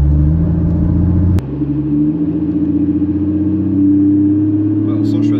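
A Porsche Cayman engine hums and pulls between 2000 and 3000 rpm, a loud, steady low drone heard from inside the car that builds slightly in pitch, with people talking over it.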